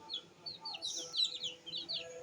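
Native chicken chicks, hatched under a hen rather than an incubator, chirp in a busy cluster of high, thin peeps and tweets, fairly close but soft against a quiet background.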